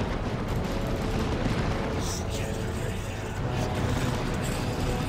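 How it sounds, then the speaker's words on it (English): Heavy autocannon fire and battle noise from the Dawn of War 2: Retribution strategy game, a dense, continuous roar of rapid shots and blasts that stays loud and steady throughout. "Auto cannon somewhere."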